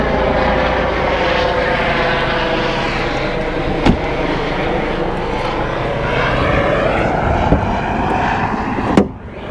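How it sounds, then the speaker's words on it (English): Loud, continuous engine roar of helicopters passing overhead, a throbbing drone with a few sharp knocks near the end, no voices. "We've got helicopters in the sky and all sorts."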